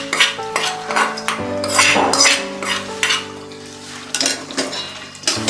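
Fried onion stirred into a ridge gourd and tomato mixture in a pan, with scraping and clinking of a spoon against the pan over a steady low sizzle, alone and close.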